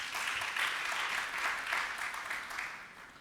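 A church congregation applauding the word of God, a steady, even wash of clapping from many hands at moderate distance, gently fading toward the end.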